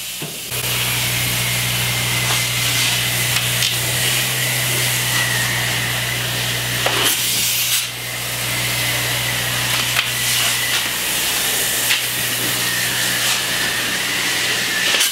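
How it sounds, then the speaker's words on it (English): Spray foam insulation hisses steadily from a spray gun into 2x4 stud wall cavities in an old farmhouse remodel, a loud continuous broadband spray with a low steady hum beneath and a brief pause partway through. "we're gonna be doing spray foam here"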